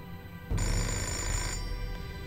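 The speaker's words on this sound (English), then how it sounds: "I just Need to answer the telephone" A telephone rings in the video game Indigo Prophecy, one steady electronic ring starting abruptly and sustaining for about a second before fading into a quieter tone, with no talk over it.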